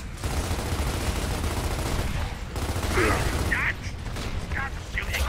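Gunfire from the video game Gears of War comes in dense, loud, rapid bursts and a sustained fusillade, with mechanical clatter and sharp reports near the end.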